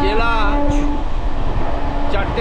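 Santragachi–Jhargram MEMU train 68001 running, a steady rumbling rail roar with a brief whining tone and faint hiss, heard continuously and fairly loud.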